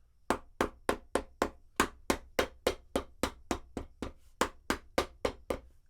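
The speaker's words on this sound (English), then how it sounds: "I wonder if I just should loop hammering noise over and over again" A hammer strikes again and again in a steady, even rhythm, close up and loud, roughly three blows per second with no talking.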